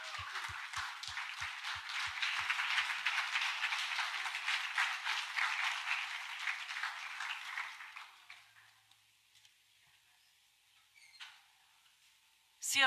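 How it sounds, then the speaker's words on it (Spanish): A church congregation rises and applauds the Lord: a broad, sustained wave of clapping for about eight seconds, with a few distinct claps at the start, then fading to near silence with scattered faint knocks. "Póngase de pie con un aplauso bien morrocotudo al Señor."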